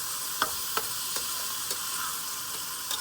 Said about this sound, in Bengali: এলাচি দিয়ে আমি আগে এটাকে ভেজে তারপরে পোলার চালটা ভালো করে ভেজে